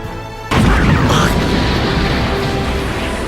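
Anime fight explosion as a small white ball bursts against a man, a sudden loud boom that rolls into a dense rumbling roar.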